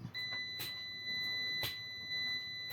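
A multimeter beeps in continuity mode while testing a water heater heating element, giving a steady high tone that runs across the quiet clip, with a few soft clicks and taps of the probes.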